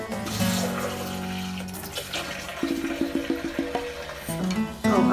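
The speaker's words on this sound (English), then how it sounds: "Let me put a little more bit of water." Water poured by hand into passionfruit pulp to make juice, a running, splashing pour with gurgling bursts that rises and falls over about five seconds, fairly close, with no talking.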